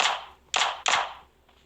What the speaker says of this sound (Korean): 총소리 나왔죠, 지금.